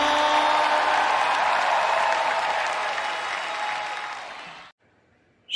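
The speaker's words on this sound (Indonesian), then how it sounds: "Memberikan sorak-sorai yang paling meriah bagi Tuhan." A church congregation at an online worship service cheers and applauds loudly, a dense sustained wash of clapping and voices that fades slightly before cutting off abruptly near the end.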